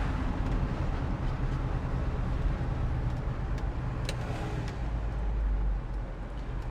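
The engine of a 1979 Chevrolet C10 idles steadily, a close, constant low rumble with a few faint clicks on top and no talking.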